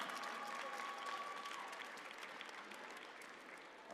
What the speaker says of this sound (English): Another huge round of applause and congratulations to all of our players